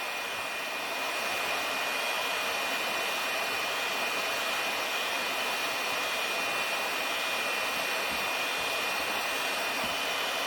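A heat gun blows steadily while heating plastic to shape a magazine holder, a loud, even airy roar with a faint high whine that holds unbroken from start to finish.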